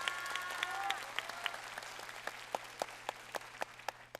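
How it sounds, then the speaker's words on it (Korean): Audience applause after a lecture at a commemorative talk concert hosted by the Gyeongnam Western Veterans Affairs branch, a soft distant clapping wash with a few sharp individual claps standing out in a steady rhythm, plus a faint low hum. "다시 한번 감사의 박수 부탁드리겠습니다"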